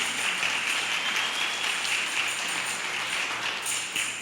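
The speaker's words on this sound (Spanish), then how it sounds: "dele palmas a Dios" A church congregation claps hands during a Spanish-language sermon, dense continuous applause at a steady level throughout.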